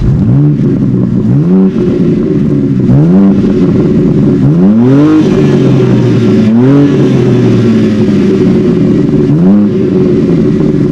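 BMW M4 Competition (2021, 510 hp) exhaust revving hard through repeated rising and falling sweeps, with loud sustained engine roar and small crackling pops between blips, no voices.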